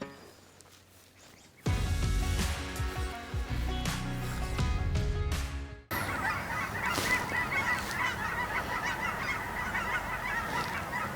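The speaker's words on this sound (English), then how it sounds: "I wonder if you guys can hear the geese or not. They are up in the sky." Geese flying overhead honk repeatedly from a distance, a steady chorus of calls continuing throughout with no talking.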